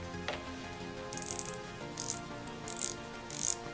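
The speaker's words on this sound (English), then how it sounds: "Let's listen to the bezel action." The rotating bezel of a Boderry Sea Turtle automatic titanium diver watch clicks up close in a few distinct, evenly spaced ratcheting bursts over a soft background.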